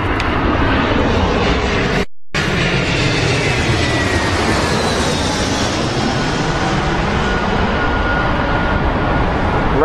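A Boeing 787 Dreamliner with carbon composite airframe departs London Heathrow, its jet engines roaring loud and steady throughout, with a broad rumble and a rising whine, briefly cut by a short gap of silence.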